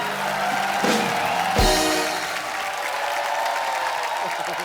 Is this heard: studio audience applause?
yes